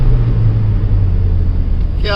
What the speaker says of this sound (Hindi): this is the first petrol car, turbo charge petrol, that is built for enthusiast